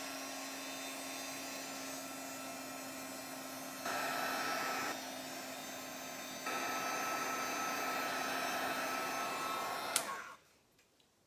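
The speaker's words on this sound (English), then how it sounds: "you want to give that a tiny little blast of hot air or heat gun." A heat gun blows a steady, fairly quiet stream of hot air onto a stamped mixed-media tag, its whine shifting in pitch a couple of times before it switches off and stops abruptly near the end.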